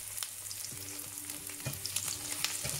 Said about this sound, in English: So my onions are frying